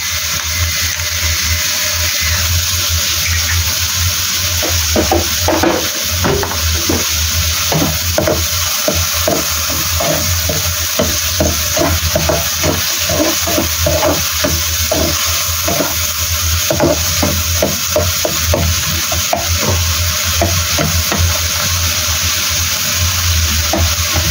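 Green peas and mixed seafood stir-fried in a hot pan with chicken powder and black pepper, giving a loud, steady sizzle throughout, with the repeated scrape and clatter of a utensil stirring the food up close.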